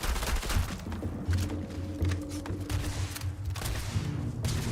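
Rapid gunfire during a gunfight in Starfield, bursts of automatic and single shots layered densely and continuously, loud and close, with mechanical clanks between volleys.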